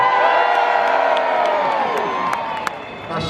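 A large crowd at the Edinburgh Military Tattoo opening ceremony cheers and whoops loudly, many voices rising together in a sustained roar that slowly fades while scattered shouts carry on.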